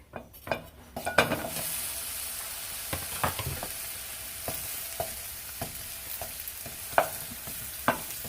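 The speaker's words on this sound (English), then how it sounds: "So, first I've chopped up 1 whole onion. That's going in the pan." Chopped onion sizzles in a pan, a constant crackling hiss punctuated by scattered clacks and scrapes of a utensil against the cookware.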